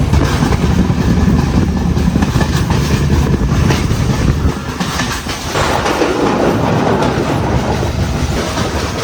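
Inside a passenger train on the coastal line from Galle to Colombo, Sri Lanka, a loud, continuous rumble of wheels clatters over the rails with a steady rhythm, dipping briefly midway before resuming.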